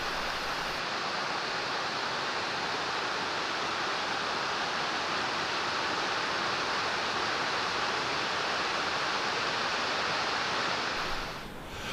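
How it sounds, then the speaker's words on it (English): Waterfalls pour over limestone travertine barriers in a steady, dense rush of water that holds at an even loudness throughout, with no voices. "As the limestone barriers appear, waterfalls appear."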